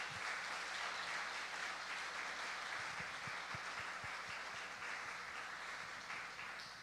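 A congregation applauds a visiting missionary during a late-night Friday church worship service, steady sustained clapping filling the hall and slowly tapering toward the end, with no talk over it.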